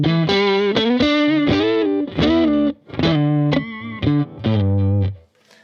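An electric guitar plays a short chordal riff straight through an amp with no pedals, notes ringing with a touch of grit, no talking.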